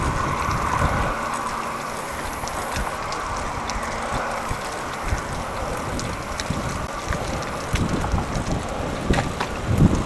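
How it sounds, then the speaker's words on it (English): Gusty wind buffets the microphone while cycling across a bridge on the Katy Trail, a steady low roar with occasional louder gusts and faint mechanical clicks from the bike. "It's going to be quite windy on the bridge, but maybe partly a tailwind."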